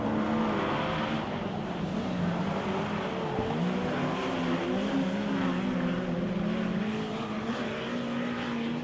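Speedway race cars roar around a dirt track at night, their engines a sustained, distant drone that rises and falls as the pack circles, with no close voices.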